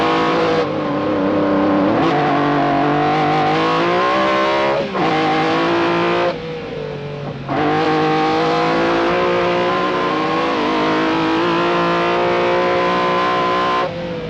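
A rally car engine at the 1985 Lombard RAC Rally roars loudly and continuously, revving up and down with brief drops in pitch between gear changes.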